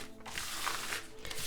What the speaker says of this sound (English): Let me shuffle up these cards on the table for a second.